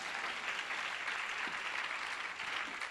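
A church congregation applauds together, a steady broad wash of clapping that stays loud and even for the whole stretch, with no voices rising above it.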